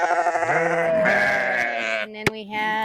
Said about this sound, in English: Here's our cross sheep.